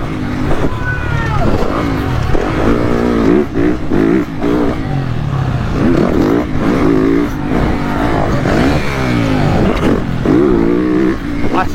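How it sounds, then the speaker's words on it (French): Cars driving fast with engines revving hard, loud and close, rising and falling in repeated surges of acceleration that fill the whole stretch, with voices talking now and then over the engines. "Ah, ça roule fort derrière, les gars."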